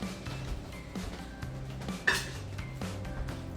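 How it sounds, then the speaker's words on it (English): A dish used for whipping cream lands in a kitchen sink with one clear clattering knock midway, among faint kitchen clinks and handling noises, with no talking. "I'm gonna toss this in the sink."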